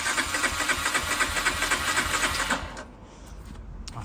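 A barn-find Honda CG 125 motorcycle engine cranks, giving a fast rhythmic churning hiss close by for about two and a half seconds, then it stops and only faint background noise remains.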